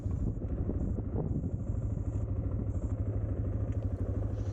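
A Suzuki DR dual-sport motorcycle, just back from an engine gasket repair, runs by on a rural park road in Ohio state forest country; a steady, moderately distant engine drone with a low thrum throughout, no talking.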